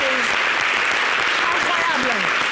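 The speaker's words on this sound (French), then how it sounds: "Applaudis." An audience at a sold-out concert in the Casino de Paris hall claps in a loud, dense, continuous wash, with a few whistles or cheers rising above it.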